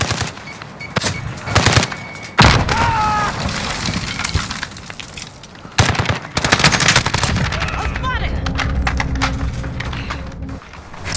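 Rapid automatic gunfire bursts and single shots in a Call of Duty: Modern Warfare multiplayer match, loud and dense with shell clinks and clatter, interrupted by short pauses and radio-style game voices.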